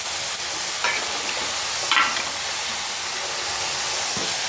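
Potato, onion and okra frying in a pan give off a steady, close sizzling hiss, with a couple of brief louder bursts as the pieces are stirred.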